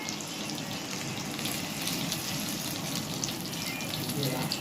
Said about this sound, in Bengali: এভাবে উল্টে পটলগুলোকে ভেজে নিতে হবে